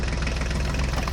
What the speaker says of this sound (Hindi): चलो चलो, अब हम फोर्ड ट्रैक्टर को लेकर आते हैं।